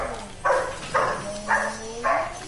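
Dog barking inside a multiplayer shooter video game, four evenly spaced sharp barks about half a second apart, fairly loud over a low game hum.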